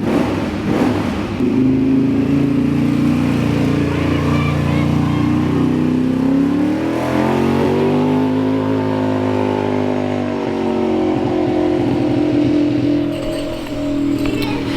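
A built ATV four-wheeler engine runs steadily nearby, its pitch rising and falling as it revs up and eases back, loud throughout.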